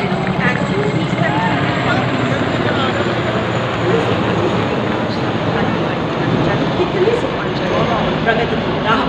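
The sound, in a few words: Chinook and Mi-17 helicopters flying in formation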